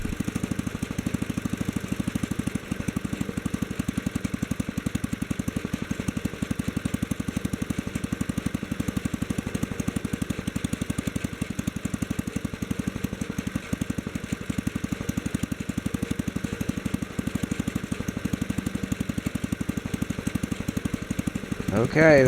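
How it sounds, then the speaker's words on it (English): A Kohler K-series small engine with an imported carburetor idles steadily during carburetor adjustment, a close, loud, even chugging that continues throughout, with a brief rise in sound at the very end. "Don't sound like it's idling too fast"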